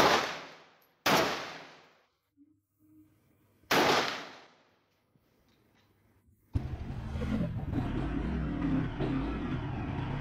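Three loud single shots from an AK-47 rifle crack out close by, well spaced with echoing tails and quiet between them, before steady noise from a crowd or surroundings takes over.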